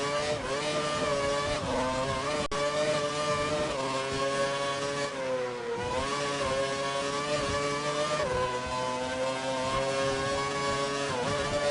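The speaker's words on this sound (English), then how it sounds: "Car doesn't sound right." A continuous, buzzing F1 race car engine in the video game F1 2012 drones throughout, its pitch wavering up and down as it revs and shifts, with no voices.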